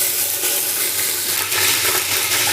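Garlic and ginger paste sizzles loudly in hot oil, a dense, continuous close frying hiss with faint stirring.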